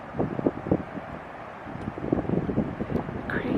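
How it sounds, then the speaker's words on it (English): Microburst windstorm gusting around a parked travel van, a broad steady roar of wind buffeting the microphone with rising surges and rustling, fairly loud and continuous throughout. "Okay, here comes a windstorm."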